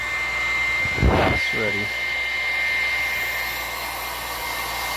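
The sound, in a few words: heat gun blowing hot air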